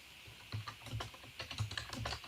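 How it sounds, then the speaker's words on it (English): Quiet, irregular keystrokes on a computer keyboard, a run of close clicks coming in small bursts with no voices. "Oh, there's all the typing."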